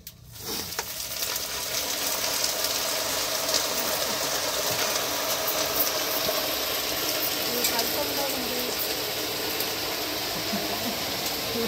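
Hot oil tempering with mustard seeds for a large batch of tamarind rasam gives a continuous hissing sizzle. It starts with a sharp burst and then settles into a steady, fairly close crackle.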